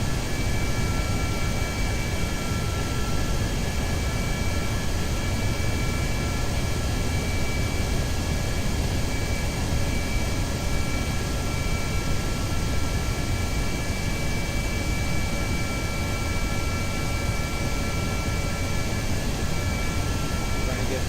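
Plane engines in Kerbal Space Program make a steady, loud, noise-like roar that holds unchanged throughout with no break, like a continuous jet drone.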